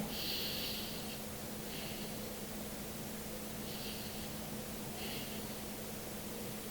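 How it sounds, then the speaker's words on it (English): Ujjayi ocean breathing with a constricted throat gives a soft, hissing Darth Vader-like rasp, steady and close, swelling in several slow breath cycles under a faint low hum. "this Darth Vader ocean breath sound is supposed to distract your mind so that you can focus on your breath"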